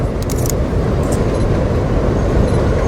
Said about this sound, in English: Let that train go by.